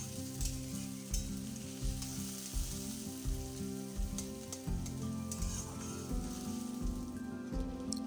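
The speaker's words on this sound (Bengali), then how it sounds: "খুব ভালোভাবে ভেজে নেব পেঁয়াজটা" Steady sizzling of onions frying in a pan, with periodic stirring scrapes and a low musical background running throughout.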